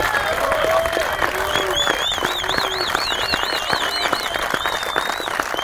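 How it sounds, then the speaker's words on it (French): An audience at a pike fishing competition qualifier applauds a competitor, a dense steady wash of clapping over the full stretch, with whistles and faint voices mixed in. "je vous demande un tonnerre d'applaudissements pour lui"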